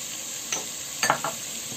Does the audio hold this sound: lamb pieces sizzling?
yes